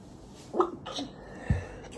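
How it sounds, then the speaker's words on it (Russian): A single sneeze from a woman unboxing small magnet toys, a sharp close burst with a faint intake before it, followed by a smaller second puff, in an otherwise quiet room. "Чихнула."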